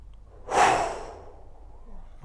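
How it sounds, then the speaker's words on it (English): A single deep breath is taken during a golf stretching routine, one soft whooshing inhale-exhale close to the ear, followed by quiet. "And again, just taking nice deep breaths."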